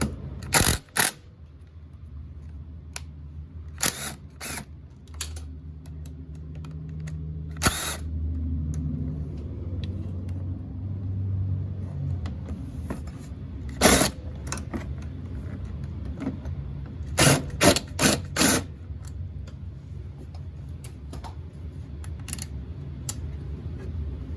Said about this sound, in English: So we're going to unloosen those 4 bolts.